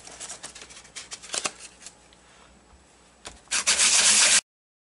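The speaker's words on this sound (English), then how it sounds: "I'm going to use a sanding block" A sanding block scrapes across flat, pitted metal in short, uneven strokes, building to a loud, harsh burst of rasping before stopping.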